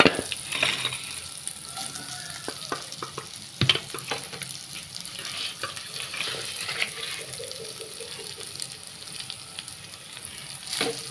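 Prawns and vegetables stir-fried together in a pan for Goan chow chow, a continuous close sizzle broken by scraping stirs and utensil knocks against the pan.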